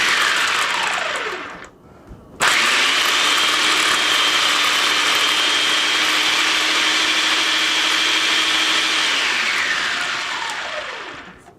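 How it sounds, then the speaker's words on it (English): A food processor blends butter with roasted garlic, whirring up briefly, pausing, then running loud and steady for several seconds before winding down. "Handy dandy food processor."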